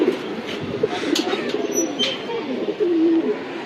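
A male silver pigeon coos in a loft, with soft repeated low throaty coos and a longer rolling coo near the end, close by over faint background noise.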